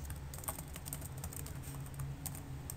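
Typing on a computer keyboard during a Java programming lesson on exception handling, a steady run of light, close key clicks with no talking.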